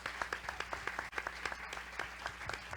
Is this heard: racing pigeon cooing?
no